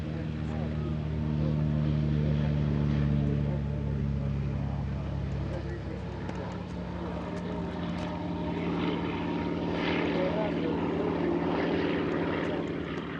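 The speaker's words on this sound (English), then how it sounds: "The second aircraft taking to the air is the Commonwealth Aircraft Corporation CA-13 Boomerang" A Commonwealth Aircraft Corporation CA-13 Boomerang, a WWII Australian propeller fighter, drones steadily with a loud sustained engine roar at an airshow near Paris, swelling and easing slightly as it flies past.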